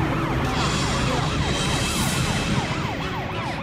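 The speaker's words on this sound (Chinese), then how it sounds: "救护人员十万火急地把小璇送上了救护车" An ambulance siren wails continuously in fast rising and falling sweeps, loud and close over a dense rumble of street traffic.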